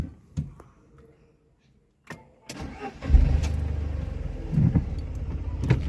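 A second-hand Tata Nano, driven by a learner in third gear, starts with a few clicks and a crank, then its small engine catches and runs with a steady, close hum that rises and dips slightly.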